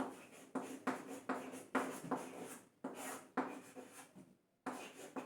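Chalk or marker writing on a classroom board: a series of soft, quick scratchy strokes in bursts, about a dozen close, with short pauses between.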